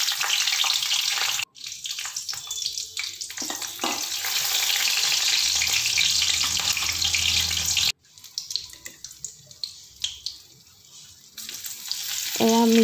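Dried red chillies, bay leaves and a fresh green chilli crackle in hot oil in a pan, a loud hissing sizzle broken by a couple of brief pauses and stirring noises, with no one speaking.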